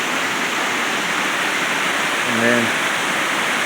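Rainwater rushes steadily down an old spillway below a second fall, a constant broadband roar filling the scene while a voice briefly speaks over it.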